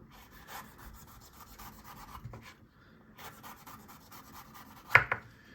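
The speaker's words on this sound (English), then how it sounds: "we're gonna chop up our peppers now" Knife chopping peppers on a board in a home kitchen while preparing a Jamaican oxtail recipe, soft scraping cuts in short bursts with pauses, fairly quiet and close, ending in a couple of sharper chops.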